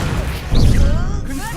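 Levitation spell cast in Hogwarts Legacy, a short whooshing swell with a low thump over game background sound.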